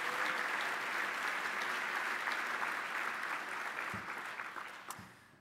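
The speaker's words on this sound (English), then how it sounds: "How about a round of applause for her team getting that job going?" An audience applauds a transportation team for getting an interstate bridge running in 27 days: steady, moderately distant clapping from a sizeable crowd that holds for several seconds and then tapers off.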